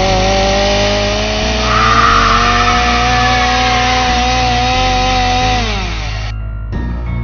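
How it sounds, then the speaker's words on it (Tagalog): A chainsaw sound effect in an animated horror story, a loud continuous buzzing engine whine with shifting pitch that runs steadily for several seconds, then cuts out abruptly near the end. "Nagkagutay-gutay ang katawan ni Marlota sa pangis ng mga pangil ng chainsaw."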